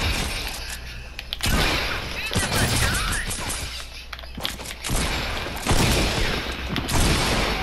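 Repeated blasts of double-barrel shotgun fire in the Fortnite video game, loud, dense and close, mixed with a wash of battle noise and some talk.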